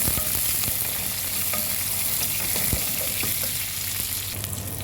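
Onions frying in hot oil with garlic paste, curry leaves and dried red chillies for a soya chunks pulao, a continuous close sizzle broken by occasional stirring taps, with no talking.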